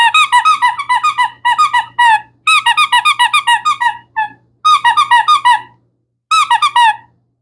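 Squeaky dog toy squeezed during a Pomeranian mix's grooming session, sounding in loud, rapid bursts of high squeaks in several clustered runs with short pauses between them, close and clear.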